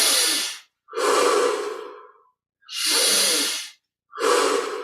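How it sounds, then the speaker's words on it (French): Deep meditative breaths during a guided Kriya Yoga session, drawn in through the nose and let out through the mouth, heard as four long, loud, close breath sounds with short silent gaps between them and no talking. "On prend ces 20 respirations profondes. Inspire par le nez. Expire par la bouche."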